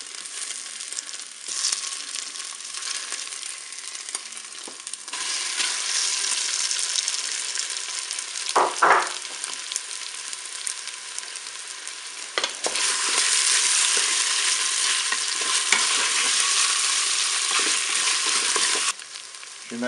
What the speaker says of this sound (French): Je vais pouvoir faire revenir ma viande hachée que j'ai coupée,